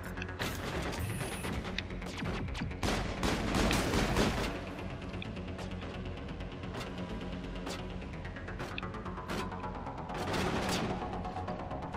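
Rapid bursts of gunfire crackle through a Mass Effect firefight, sharp repeated shots and volleys stacked densely over a rumbling combat background, loudest in the opening seconds and flaring again later.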